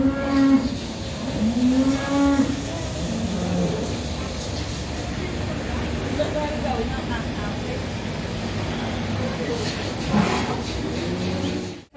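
Beef shorthorn cattle low at an agricultural show, several long, deep moos rising near the start, then fainter calls later against a busy crowd background, with people talking.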